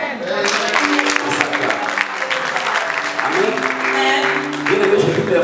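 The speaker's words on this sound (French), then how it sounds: "On s'acclame." A church congregation claps and cheers after a sermon, sustained applause filling the room with a few voices calling out over it.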